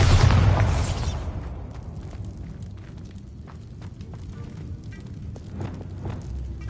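A Bombarda blasting spell in Hogwarts Legacy bursts with a loud, heavy boom at the start, then decays into a long crackling, rumbling tail with scattered small pops.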